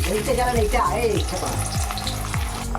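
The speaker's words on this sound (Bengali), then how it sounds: "তেলটা গরম হয়ে গেছে আমি পেঁয়াজগুলো দিয়ে দেবো বেরেস্তা ভাজার জন্য" Sliced onions sizzle loudly in hot mustard oil in a wok while being fried crisp, with a continuous crackling hiss and occasional stirring scrapes close by.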